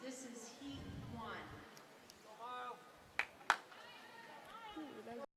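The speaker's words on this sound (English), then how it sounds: "that was a loud clap that just came through our mics" Two sharp, loud claps ring out in quick succession at a high school swim meet, picked up by the commentary microphones while commentators talk before and after.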